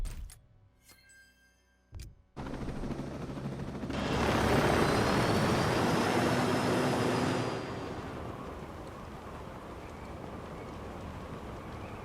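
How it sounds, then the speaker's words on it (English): A helicopter in the Ghost Recon Breakpoint video game, with a short click and thump, then a loud rotor and engine roar that swells, peaks, and drops to a steady lower drone. "Helicopter's already at the ground, because that thing drops like a stone"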